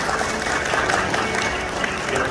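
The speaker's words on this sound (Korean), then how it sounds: "네, 박수 부탁드리겠습니다." Applause from guests at a Korean wedding ceremony in a wedding hall, a steady, dense wash of clapping that fills the short stretch at even loudness, with faint voices mixed in.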